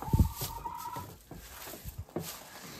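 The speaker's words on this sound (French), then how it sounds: "De l'autre côté, on a les poules." Farm chickens kept as studio mascots cluck in short, scattered bursts at close range on a sunny day, with a brief higher call near the start and no talking.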